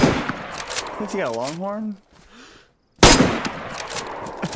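Gunfire in the DayZ video game, a loud burst of rapid shots at the start and again near the end, with a voice talking briefly between them.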